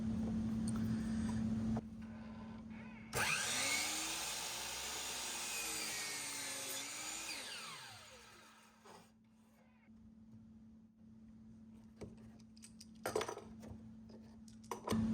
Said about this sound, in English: what I have set up here is a scarf joint jig for the miter saw